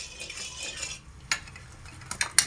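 Salt and turmeric stirred into hot oil in a pan at home, a soft steady sizzle with a few light scrapes and clinks of a spoon near the end, close and quiet, no talking.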